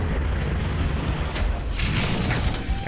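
Artillery fires in a Warhammer 40,000 Armageddon battle video game, a heavy booming rumble with a dense layer of explosive crackle swelling toward the end, loud and continuous.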